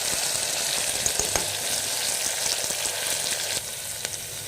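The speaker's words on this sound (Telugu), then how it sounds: "ఈ విధంగా అయితే పప్పునంతా బాగా కలుపుకోవాలండి" Dal fries with chopped tomatoes in a pan, giving a loud, continuous close sizzle with scattered clicks and scrapes as the mixture is stirred.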